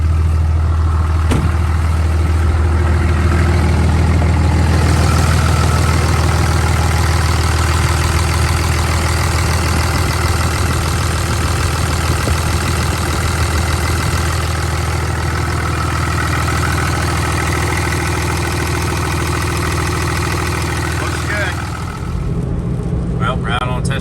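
A 2003-2012 Cummins 5.9 or 6.7 diesel pickup engine idling after a serpentine belt replacement, a steady close heavy rumble held for about twenty seconds before cutting off near the end, with someone talking briefly over it.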